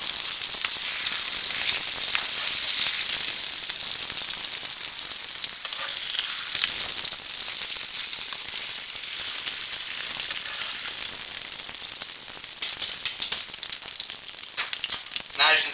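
Meat sizzles and fries steadily on a griddle for Philly cheese steaks, a dense continuous crackle with occasional louder pops, close and loud with no talking.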